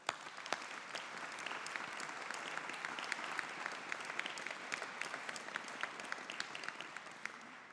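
A large audience at a business school graduation ceremony claps in sustained, even applause that fills the hall, starting with a few sharp claps and holding steady throughout.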